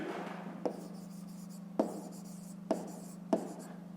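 Pen or pencil writing digits on paper during a fifth-grade math exercise, quiet scratching with four sharp taps spaced under a low steady hum, faint and close.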